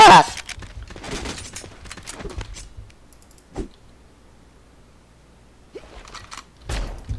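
P90 submachine gun fire in the online shooter Sudden Attack: a dense rattling burst of rapid shots for the first few seconds, then sparse single cracks and a closing burst, all close and fairly loud.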